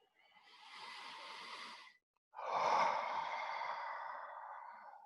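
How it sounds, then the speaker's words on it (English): A long, slow exhale during a guided breathing exercise in a morning mobility routine, preceded by a steady breath; both are close, airy and soft, with a short silent pause between them. "followed by a long breath out"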